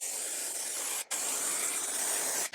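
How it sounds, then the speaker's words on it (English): A long, steady aerosol hiss from a can of spray adhesive applied to bench seating during upholstery, broken by a quick pause, then resuming briefly at the end; loud and close. "just going to spray a load on here"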